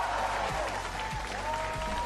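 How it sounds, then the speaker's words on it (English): Crowd applause at a VCT EMEA Valorant esports match, cheering for FNATIC: a dense, steady wash of clapping that holds at an even level for about two seconds, with no clear voices above it. "A rapturous applause for FNATIC."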